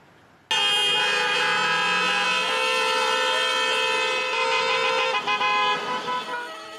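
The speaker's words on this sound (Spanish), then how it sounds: "Solo bocinazos era lo que se escuchó temprano en el peaje Río Claro" Car horns blare together in a long, loud, sustained chorus at the Río Claro highway toll in Chile's Maule region during heavy holiday return traffic, several tones overlapping before tapering off near the end.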